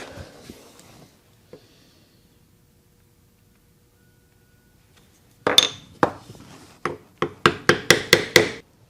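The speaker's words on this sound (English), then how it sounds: "So I ended up using a chisel that was just about as wide as the mortise" A chisel struck with a mallet chops mortises in wood for a three-legged dragon stool: a few scattered taps at first, then a rapid run of about ten sharp, loud knocks close by, with no talking.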